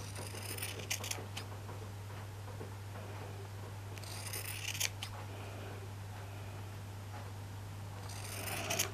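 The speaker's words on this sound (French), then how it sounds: "Et je coupe tout le long à partir du 6." Scissors cutting thin strips along a line for a fancy bag charm, heard as a few faint close snips and rasps in separate bursts over a steady low hum.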